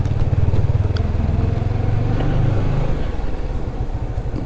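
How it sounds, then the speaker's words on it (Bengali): A motorcycle rides along a road, its engine giving a close, steady throbbing drone that eases slightly in pitch partway through, with traffic noise behind it. "বাইক নিয়ে বেরিয়ে পড়লাম কাউতলীর উদ্দেশ্যে।"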